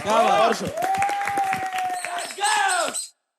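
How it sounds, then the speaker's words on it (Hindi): A group on the Playground Season 4 grand finale claps for themselves, with sharp, scattered claps under loud overlapping voices and shouting for about three seconds before cutting off abruptly. "अपने खुद के लिए ताली बजाओ यार"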